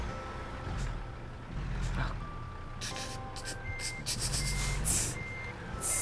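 Reversing beeps from a truck backing up in American Truck Simulator, steady repeating beeps over a low diesel engine rumble, with brief hissing bursts from air brakes.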